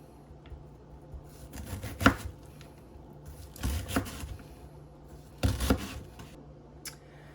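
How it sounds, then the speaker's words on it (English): Knife chopping an onion on a cutting board, three distinct bursts of rapid, crisp cuts separated by pauses, close and fairly quiet with no talking. "So I've got my onion all chopped up and I put it in a bowl."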